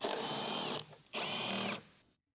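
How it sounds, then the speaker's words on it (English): A large electric impact wrench with a 13 mm deep socket spins off strut top mount nuts on a BMW 325Ci E46 coilover job, two loud whirring bursts separated by a short pause. "With a large electric impact wrench, remove the strut top mount retaining nuts."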